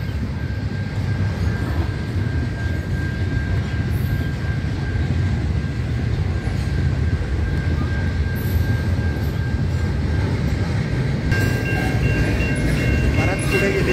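A freight train carrying double-stacked containers rolls past on tracks in the United States, a steady loud rumble and rattle of wagons lasting the whole span, with a faint high tone running through it.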